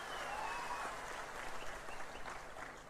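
A crowd at a political rally with Chandrababu claps steadily for three seconds, a dense, even wash of many hands fairly close, no voices over it.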